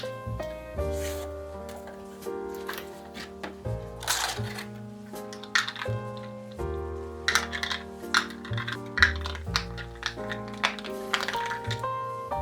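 Typing on an Akko 5075 keyboard fitted with Akko Cream Yellow V3 switches and thick PBT XDA keycaps, a close, steady stream of soft clacky keystrokes with scattered louder thocks, heard alone over background music.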